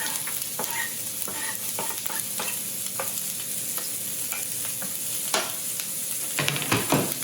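Chopped onions and garlic frying in a warm pan: a continuous close sizzle with frequent scraping stirs and utensil taps, busier toward the end, no speech.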